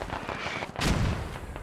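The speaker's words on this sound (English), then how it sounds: "Decrum eats a little bit of a frag there from that mortar hit" Mortar round exploding in the military shooter game Squad, a single loud blast with a sharp onset and a brief rumbling tail, alone with no talk.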